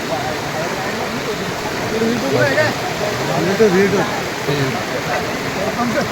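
A flooded river rushes past near a bridge with parked vehicles, a constant broad roar of water with voices talking over it in places.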